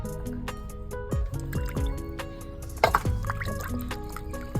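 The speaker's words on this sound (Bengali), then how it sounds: "এভাবে সুন্দর করে পরিষ্কার করে মাছের মাথাগুলো ধুয়ে নিতে হবে।" Rohu fish heads are being washed by hand in water in a village kitchen, with wet splashes, drips and squishy handling sounds, plus a louder slosh partway through.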